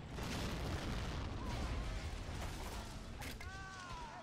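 A deep, booming blast erupts in a World War II tank battle in the video game Men of War, its broad rumble filling the scene and then slowly tailing off, with a few thin whistling tones rising near the end.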